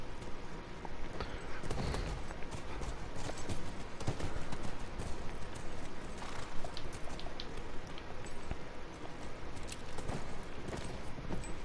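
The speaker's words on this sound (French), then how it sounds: "Allez, chevaux, venez." Several horses clip-clop at a walk in The Last of Us video game, a dense, continuous patter of hooves on hard ground lasting throughout, with no talking.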